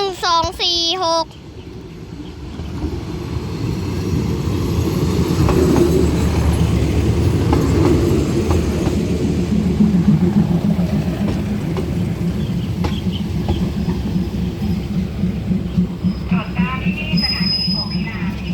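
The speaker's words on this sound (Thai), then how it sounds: "เป็นขบวนรถ 410" Train 410 rolls past close by with a loud, sustained rumble and rattling wheel clatter, plus high squeals toward the end. A brief tonal sound opens the clip before the passing noise builds.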